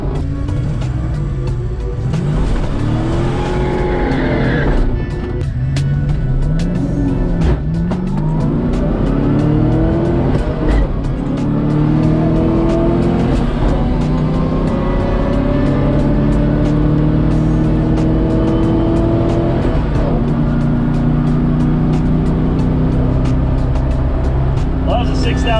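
An H-body Corvette roars down a drag strip, the engine climbing hard through each gear to about 6,000 RPM with repeated rising pitch sweeps and shift breaks, loud and close from inside the car.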